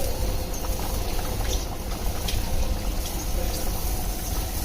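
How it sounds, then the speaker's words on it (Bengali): Tengra fish curry simmering as it comes to a boil, a steady bubbling and watery churn that holds evenly from start to finish at moderate level, with no voices. "আমার তরকারি বলক চলে আসছে, দিয়ে দিচ্ছি ভেজে রাখা মাছ দিয়ে সুন্দর করে"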